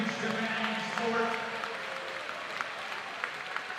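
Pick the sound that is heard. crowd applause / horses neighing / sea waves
crowd applause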